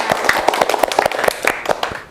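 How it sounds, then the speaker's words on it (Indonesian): An audience at an SMK Kesehatan Bali Dewata nursing school event claps in a brief burst of applause, many quick overlapping hand claps close and loud, fading at the end. "tepuk tangan dulu"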